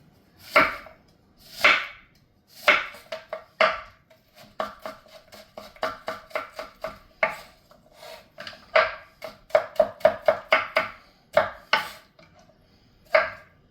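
An onion is chopped for beef fried rice, crisp knife strikes on a cutting board, some heavy and spaced, others in rapid light runs, close and unaccompanied by talk.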